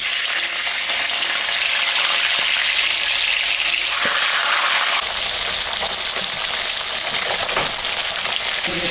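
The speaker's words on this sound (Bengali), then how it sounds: "তেলটা গরম হয়ে গেছে মাছের মাথাটা এখন ভাজব" A boal fish head frying in hot white oil in a kadai, loud continuous sizzling and crackling close up, intensifying partway through as the oil spits, with no talking.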